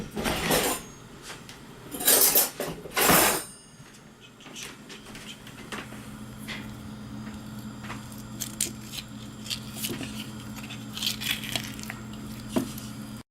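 A metal spoon scoops the soft flesh out of an avocado for a spicy California burger, with a few close, wet squishing scrapes early on, then quieter scraping over a low background hum.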